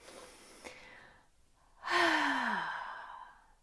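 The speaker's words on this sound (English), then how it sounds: "So you start with that deep breath through the nose." A single deep breath drawn in through the nose during a meditation exercise: a quiet airy hiss, a short pause, then one loud, close, sustained rush of breath trailing off.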